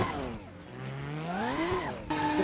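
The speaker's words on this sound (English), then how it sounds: "Tires are so gone that it's just spinning." Worn tires spin on a Chevy C-10 fitted with a tank engine in the Assetto Corsa racing game. A loud, continuous engine drone rises in pitch as the wheels spin, with a brief shift near the end.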